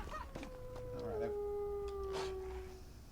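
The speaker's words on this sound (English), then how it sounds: "Wolves don't actually howl to announce themselves when they're attacking you." Wolves howling in the video game Rune II, a single long, clear howl sliding slowly down in pitch over a couple of seconds, with fainter howls and soft background noise around it.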